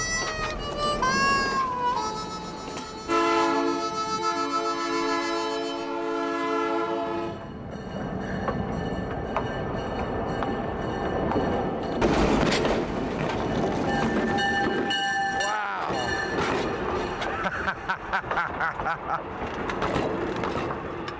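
A train rumbles along the tracks with clattering wheels and a long horn blast, while people talk over the noise.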